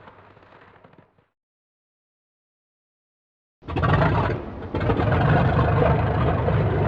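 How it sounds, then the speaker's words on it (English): A brief quiet rumble, then silence, then the loud engine of an airplane, twin of Amelia Earhart's, roars to life and keeps running steadily at full power, close by. "The sound of the engine starting up on Amelia Earhart's airplane is deafening."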